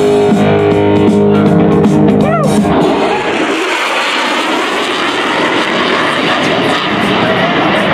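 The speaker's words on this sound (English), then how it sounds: "the Super Hornet high-speed pass" An F/A-18E Super Hornet jet makes a high-speed pass at an air show, a loud roaring whine that swells and sweeps past, then fades into broad rumbling jet noise.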